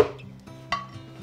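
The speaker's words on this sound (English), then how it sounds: "scrape this into my blender." A utensil scrapes and clinks against a bowl, scraping apple sauce into a blender, with a sharp knock partway through and soft scraping strokes around it, up close.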